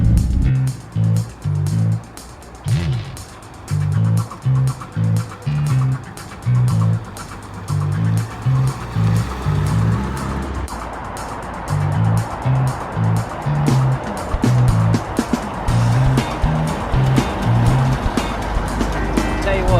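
Peel P50 microcar being driven at a British car museum, a small engine buzzing steadily with rhythmic pulsing bursts throughout, close and fairly loud, with some chatter and ambient noise around it.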